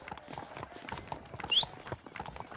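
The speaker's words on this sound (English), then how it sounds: "I asked Nastas to bring the horses around front." Horses trot along in Red Dead Redemption, a quick patter of hoofbeats clip-clopping close by under a busy game soundscape, with no talk.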